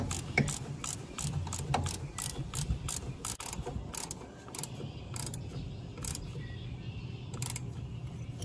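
A wrench ratchets repeatedly while tightening parts on a Kubota diesel fuel lift pump, giving rapid, fairly quiet clicking bursts in an uneven rhythm over a low background hum.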